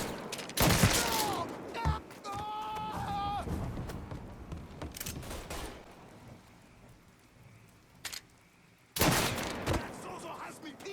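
Loud bursts of gunfire from the Mafia III shooter crack out in several sharp volleys with quieter pauses between them, alongside a shouting voice near the start.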